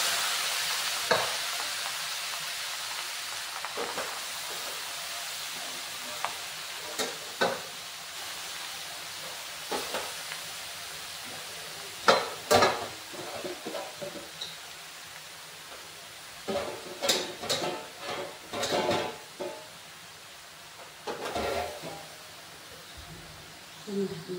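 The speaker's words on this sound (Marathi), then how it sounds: "तुपामध्ये आपण किसलेली गाजरे घालून घेऊया।" Grated carrots sizzle in hot ghee for gajar halwa while a spoon stirs them, giving a steady frying hiss broken by repeated scraping clatters against the pan, with no voice.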